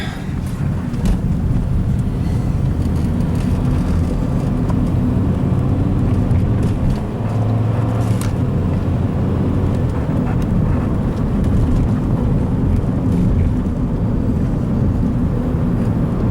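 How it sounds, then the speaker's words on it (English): Road traffic passes outside a car heard from inside a moving 1973 car with a 455 engine, a constant loud roar of road and wind noise with no distinct single pass-bys. "a lot of traffic out here"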